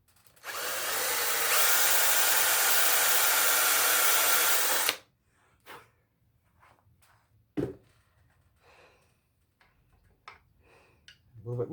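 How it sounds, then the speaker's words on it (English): A reamer widens the rear opening of a vacation build part, running for about four seconds as a loud steady whir, then stopping, followed by scattered small knocks and taps. "that's what the reamer is for"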